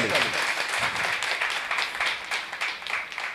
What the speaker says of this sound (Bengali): একটা জোরদার হাততালি